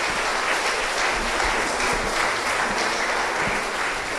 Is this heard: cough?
no